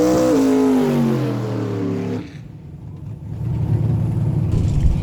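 A 582 cubic inch big block Chevy drag engine at a no-prep dragway revs loud and close, a rising wail that cuts off, then a rough lumpy idle rumbles on.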